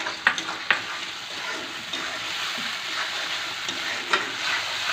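Ginger-garlic spice masala frying in a pan, a low continuous sizzle with a few sharp spoon knocks and scrapes at the start and again near the end.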